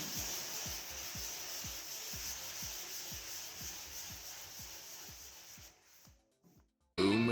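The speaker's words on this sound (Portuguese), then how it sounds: "Já está tudo lixado agora com a 400, né, para dar o acabamento" Paint on a Ford Mustang roof is wet-sanded by hand with 400-grit sandpaper. A steady, close rasp carries quick, regular back-and-forth strokes, then stops abruptly before a loud burst of noise at the end.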